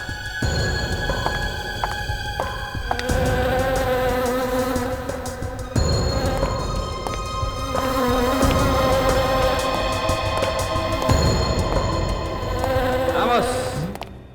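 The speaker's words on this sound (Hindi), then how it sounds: "अरे यार, ये मधुमक्खी तो इसकी नाक पे जाके बैठ गई।" A bee buzzing steadily and close for the whole stretch, a dense, droning hum that shifts pitch a few times, with faint background sound and a brief noise near the end.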